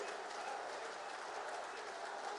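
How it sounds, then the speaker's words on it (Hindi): A large crowd at a political rally addressed by Modi applauds, a steady, even wash of many hands clapping at a distance, with no breaks in it and no speech over it. "आपके तालियां बंद नहीं होनी चाहिए"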